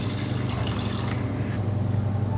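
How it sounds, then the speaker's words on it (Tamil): Water pours steadily into a cooking pot of rice and green peas, a continuous close splashing rush from start to finish with no talking. "இப்போ தண்ணி சேர்த்துக்கலாம்"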